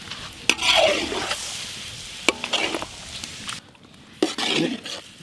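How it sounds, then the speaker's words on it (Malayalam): Egg being stirred into frying chicken and carrot in a village kitchen pan, heard as repeated close scraping strokes over a steady sizzle, with brief pauses between the bursts of stirring. "മുട്ട ഒഴിച്ചു കൊടുക്കാം. നല്ല മിക്സ്."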